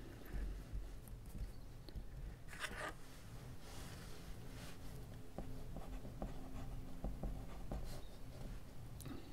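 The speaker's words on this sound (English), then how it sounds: "we forward the lead when we click." A small Zebra TS-3 mechanical pencil is clicked to advance the lead, producing several faint, close, light ticks in a quiet room with soft handling rustle.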